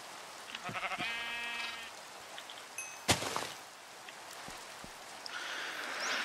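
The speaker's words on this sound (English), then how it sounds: "Now we have a sheep farm" A few short bleats from a sheep in Minecraft near the start, followed by a sharp thud and soft rain-like patter in a quiet setting.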